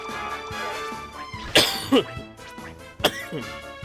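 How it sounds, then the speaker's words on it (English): A couple of sharp, harsh coughs from a person getting over the flu break through a steady backdrop of Dragon Quest 8 game music, one around the middle and another shortly after. "So this cough is my last symptom."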